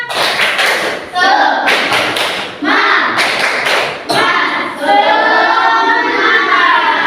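A group of children does a rhythmic spirit clap in a classroom, loud sharp claps in quick patterned bursts with short pauses, under some lively voices.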